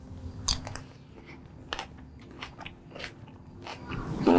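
Bites into a grilled corn salad with tomato and bacon, giving close, crisp crunches and chewing in an irregular rhythm, with sharper bites at the start and near the end.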